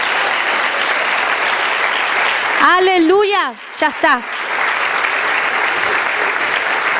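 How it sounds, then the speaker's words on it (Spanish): Congregation at a church service breaks into sustained, loud applause, a dense clatter of many hands, briefly interrupted by someone speaking over it before the clapping resumes. "Dale un fuerte aplauso al Rey."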